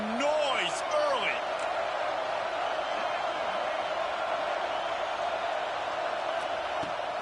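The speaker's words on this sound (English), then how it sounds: "This crowd bringing the energy and noise early." A stadium crowd at a UCLA vs Michigan college football game keeps up a dense, steady roar throughout, with a few whistle-like tones rising above it near the start.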